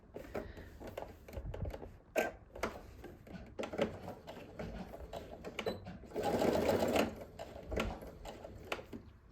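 Sewing machine stitching a paperback tote bag, with a few short bursts of running before one longer steady run near the middle, set among quieter clicks and handling noises.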